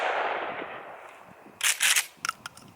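Shotgun slugs fired at a block wall 300 yards away: after a stretch of steady outdoor hiss, a cluster of loud, sharp reports bursts out, followed by two or three quicker cracks.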